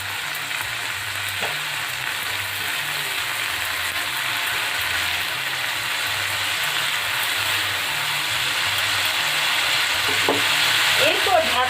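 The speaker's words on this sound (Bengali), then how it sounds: "এরপর একটু জল দিয়ে মশলাটা খুব ভালো করে কষিয়ে নেব।" Spice paste for palak paneer, loosened with a little water, sizzles steadily in a pan while a spoon stirs and scrapes it, a close, continuous frying hiss with occasional clinks and a voice talking over it.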